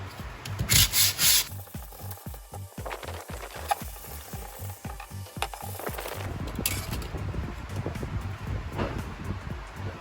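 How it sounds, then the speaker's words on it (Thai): Steady, rhythmic rasping of sanding strokes on freshly cut metal pieces for a Ford Anglia front crossmember, close and fairly loud, repeating in quick back-and-forth passes with no talking. "หลังจากตัดแล้วนะครับ ผมก็มาขัดต่อ"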